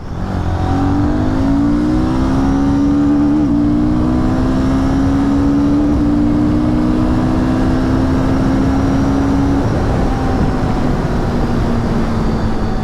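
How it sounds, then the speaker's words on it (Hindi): A Royal Enfield Guerrilla 450 motorcycle accelerates hard, its engine and intake note climbing steadily in pitch, loud and close, then easing off near the end with no talking. "अच्छा जो इनटेक की साउंड है वो काफ़ी अच्छी आती है"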